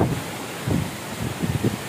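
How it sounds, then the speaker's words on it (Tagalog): Strong typhoon wind roars steadily, gusting and buffeting the microphone in low surges, with no rain. "Ang lakas ng hangin."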